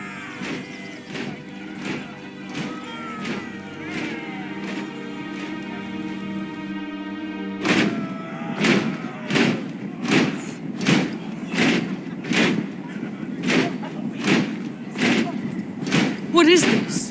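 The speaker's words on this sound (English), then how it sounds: "They just showed up here, started banging their shields." Shields are banged in a steady, evenly spaced rhythm of thuds in the Game of Thrones video game, continuing under a character's voice and growing louder and denser midway.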